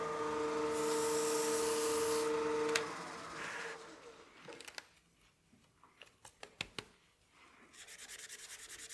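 Hand sanding of a zebrawood crank-top pepper mill spinning on a lathe: a steady, close whirring hiss with a motor whine for about three seconds, then softer scattered scratchy rubs and light taps.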